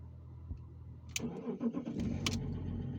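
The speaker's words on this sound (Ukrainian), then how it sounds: "Так, зараз попробую завести машину." A car engine cranks and catches, turning over with a burst of mechanical noise and settling into a running idle, close by inside the vehicle.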